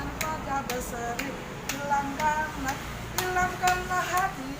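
Children clap along to a song at a Sunday school church service in Banda Aceh, giving a steady rhythm of sharp claps under soft singing voices at moderate distance.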